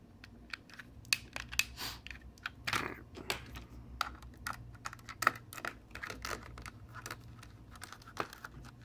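Small plastic shoulder button on a game controller, stiff after a FIPS install, giving a run of quick, light close-up clicks and taps with faint handling noise between them.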